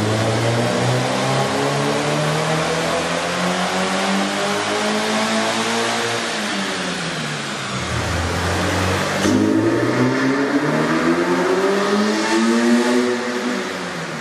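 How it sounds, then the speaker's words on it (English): Car engine with a K&N air intake running on a dyno, loud and close: a sustained roar that rises in pitch, drops sharply, then climbs again through another hard rev. "we ran the vehicle on the dyno to test the sound comparison versus the stock intake"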